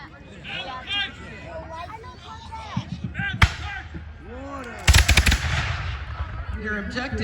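Musket shots at an 18th-century reenactment, fired by divisions in turn, ring out as a sharp crack and then a ragged cluster of reports, heard over an outdoor crowd's chatter and someone talking.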